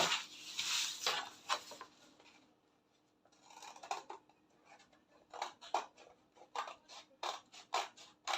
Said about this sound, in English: So I'm cutting my sleeve right away.